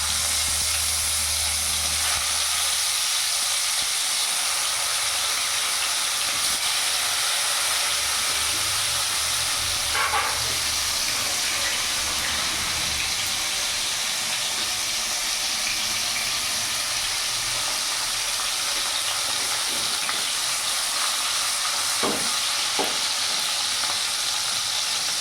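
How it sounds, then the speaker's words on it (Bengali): Fish pieces frying one by one in hot mustard oil in a kadai, a steady close sizzling hiss throughout with occasional crackles and spatters, no voices. "তেল গরম হয়ে গেছে, এবার এক এক করে মাছ ছেড়ে দেবো।"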